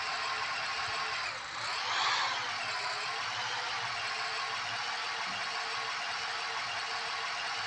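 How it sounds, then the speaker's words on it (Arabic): A car engine idles at raised RPM with its coolant temperature sensor unplugged, a steady, even engine hum with a brief dip and swell in pitch partway through, close and continuous without talk. "التغير في اداء الموتور، وان الار بي ام عندي عالي"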